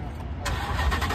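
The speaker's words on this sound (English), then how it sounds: "About to give y'all a cold start of the week." A car engine cold-starts with a quick crank that catches into a loud, rough rev within about a second, heard up close and alone.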